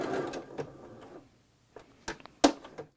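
A sewing machine backstitching on placemat fabric gives a few short, quiet mechanical bursts and clicks, spaced apart with near silence between them.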